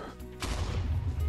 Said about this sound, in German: Explosion links und rechts.